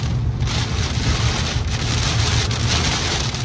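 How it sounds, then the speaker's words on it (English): Heavy monsoon rain pours during a severe thunderstorm in Phoenix, a dense, steady roar of downpour drumming on surfaces, loud and close, with no talk. "Look at this wall of rain."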